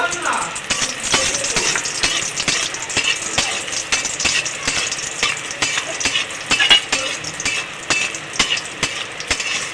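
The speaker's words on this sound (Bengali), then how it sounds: "তেলের মধ্যে বড়িটা ভেজে নেব" Lentil dumplings frying in mustard oil give a steady crackle with sharp pops scattered throughout, close and fairly loud, with a faint voice underneath.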